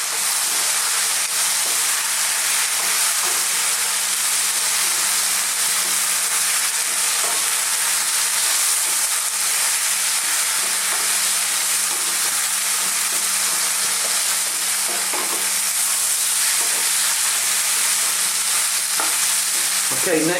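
Spices (cumin, chili powder, turmeric) being stirred as they fry in a pan for a chicken potato curry give a steady, close sizzle and hiss with soft scraping stirs throughout, and no voices.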